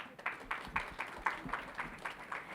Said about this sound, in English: Please give a round of applause for our moderator